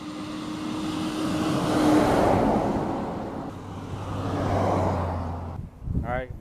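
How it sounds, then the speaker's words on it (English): A truck passes on a road beside a landscaped bank, a broad rumble that swells, fades and swells again as it goes by, with someone speaking near the end. "Here comes another truck."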